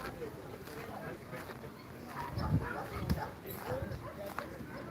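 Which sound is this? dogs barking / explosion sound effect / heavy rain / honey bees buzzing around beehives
dogs barking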